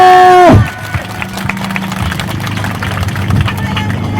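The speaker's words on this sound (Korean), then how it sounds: "박수 부탁드리겠습니다!" Crowd applause and cheering at a political campaign rally, a dense, steady wash of clapping that swells in after a brief tone and carries on without letting up.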